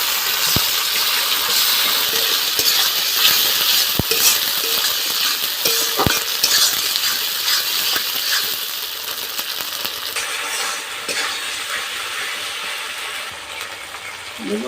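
Onions frying in a pan for a village-style duck egg curry, a steady broadband sizzle running the whole time with a few sharp clicks and taps of a utensil against the pan.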